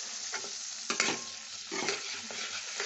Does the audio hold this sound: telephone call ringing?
no